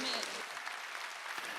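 A church congregation applauds during a Korean Sunday worship service, a steady wash of many hands clapping that is fairly faint and sustained for the whole moment.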